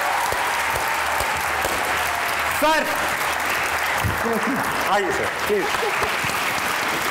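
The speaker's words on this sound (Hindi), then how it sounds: "जोर से तालियां होनी चाहिए" Loud studio audience applause on the set of a Hindi-Urdu comedy talk show, sustained throughout with voices talking over it.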